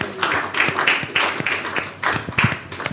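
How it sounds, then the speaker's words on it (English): Audience applause at a World Environment Day event, a burst of many hands clapping with irregular sharp claps filling the room, loud and close, with no talk over it. "a round of applause for her"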